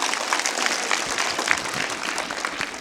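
An audience at a Shivaji Jayanti quiz event bursts into a short, dense round of clapping for a correct answer, steady and fairly close with no talk.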